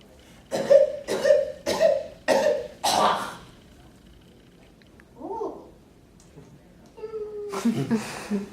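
A voice performer imitates a child's spasm of coughing: five harsh, evenly spaced coughs in quick succession, close and loud, followed after a pause by a strained gasp and a rough, throaty sound.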